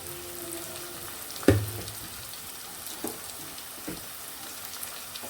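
Country chicken pieces mixed with salt and chili drop into hot oil with one loud splash, then settle into a steady low sizzle broken by a few soft clinks.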